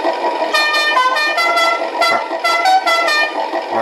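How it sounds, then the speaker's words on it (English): A loud, close horn effect from a Beier RC USM-RC-2 sound and light controller honks in several repeated blasts of varying length, heard alone without talk. "our horn,"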